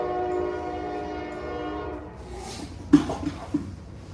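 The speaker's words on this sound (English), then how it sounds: "that's the train coming through" A loud, sustained train horn blares, then cuts off, giving way to rumbling and a few sharp clanks as the train rolls past nearby.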